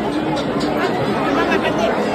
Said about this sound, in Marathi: गर्दी बघू शकता खूप गर्दी आहे